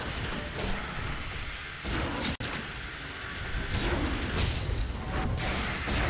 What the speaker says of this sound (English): Right, thunder.